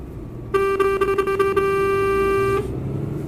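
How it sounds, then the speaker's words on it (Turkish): A Mercedes-Benz Travego bus in Euro Truck Simulator 2 gives one loud, sustained horn blast of about two seconds entering a bus terminal, with a low engine rumble underneath. "Kornamızı çaldık."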